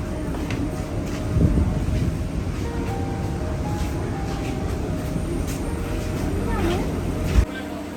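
A Kochi metro train rumbles along in a low, steady drone heard from inside a carriage, with a couple of sharper knocks and people talking faintly in the background.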